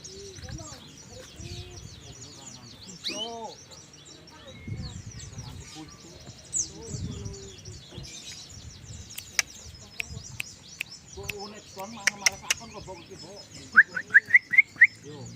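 A canary sings in a village during bird season, with short chirps and trills scattered among other birds, and a brighter run of rapid notes near the end, under intermittent talk and wind.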